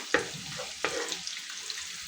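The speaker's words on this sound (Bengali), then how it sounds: "তেল গরম করে পেঁয়াজ ঢেলে দিলাম" Onions tipped into hot oil, the same pan just used to fry silver carp, burst into a sharp sizzle. Two quick crackling spikes are followed by a softer, settling hiss with light spatters.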